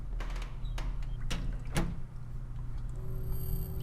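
In the pixel horror game Home, an exit door is tried: several sharp metallic clunks and rattles in quick succession, then a low hum and a thin steady whine in a quiet room.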